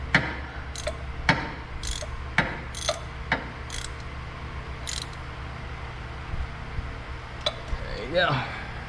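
A hand ratchet tightens the top transmission fill plug on a 2013–2015 Prius, giving sharp close clicks and metallic ticks in an uneven series, with a few short bright rattles and a person talking.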